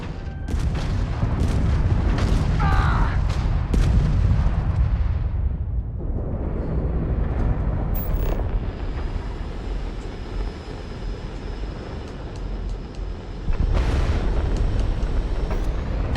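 Spaceship weapons firing in the video game Starfield, heavy booming blasts and roaring thrust layered over a constant engine drone, with loud impacts early on and another burst near the end.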